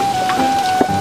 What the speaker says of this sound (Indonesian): Dingin, di luar soalnya hujan.